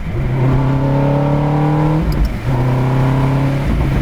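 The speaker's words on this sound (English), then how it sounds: "You get to heel toe, downshift" A Ferrari engine converted to a gated manual revs hard through a heel-toe downshift, its loud, close harmonic note climbing, cutting off briefly with a throttle blip, then climbing again.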